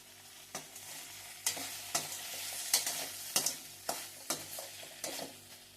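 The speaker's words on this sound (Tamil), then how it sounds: "தக்காளி வதங்கிடுச்சு." Tomatoes sauté in a pan under a soft sizzle, broken by about eight sharp scraping stirs spaced roughly half a second to a second apart, close with no talking.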